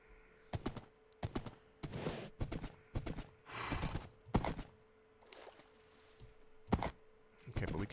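In the Minecraft video game, a horse moving through a forest gives a string of irregular, hollow hoof knocks, loud and close, with short pauses between bursts.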